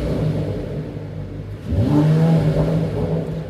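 A 2021 Mercedes-AMG E53 convertible engine idles, then is revved up to its limiter at about 3,500 rpm, holding a loud, steady drone close by.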